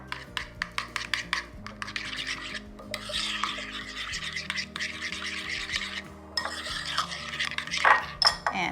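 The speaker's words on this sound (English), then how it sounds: "Okay, let's mix that together." A utensil stirs a butter mixture with Italian seasoning and minced garlic in a bowl, making close scraping and clinking that starts as a quick run of taps and turns into steadier rubbing strokes.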